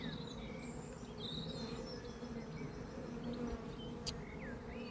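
Honeybee colony hums as a steady, close drone during a hive inspection, with faint bird chirps scattered above it and a brief sharp tick near the end.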